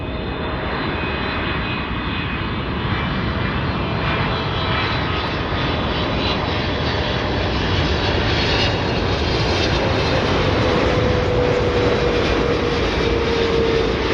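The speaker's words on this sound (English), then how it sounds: "we got a Boeing 777-337ER, Air India, arriving in from Delhi, New Delhi, India." An Air India Boeing 777-300ER jet arriving at Chicago O'Hare makes a loud, steady engine roar that holds for the whole stretch, with a faint whine above it and no voices.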